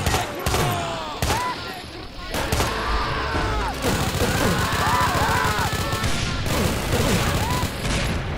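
Rapid bursts of gunfire from Doom 2 weapons such as a shotgun and Tommy gun, with booms from TNT, close and loud, running almost continuously through the clip with dense repeated shots.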